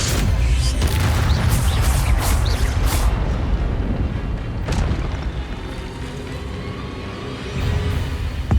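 Incendio fire spells are cast in Hogwarts Legacy, giving heavy booming bursts and crackling whooshes of flame, loud and dense at first, then fading to a rumbling tail before another burst near the end.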